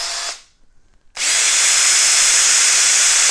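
A RIDGID cordless drill running on a 4 amp-hour battery whirs briefly, cuts out, then spins up again into a loud, steady, close high-pitched motor whine.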